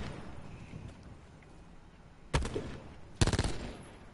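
Two short bursts of Spitfire SMG fire from Call of Duty Black Ops 4 Blackout, each a rapid rattling volley, the second louder and closer, over faint in-game ambience.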